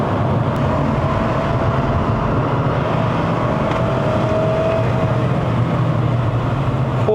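A black Lexus IS 300 F-Sport climbs the Genting Highlands road in Malaysia at full throttle. Its engine and road noise form a steady, unbroken drone at constant loudness, with no voices.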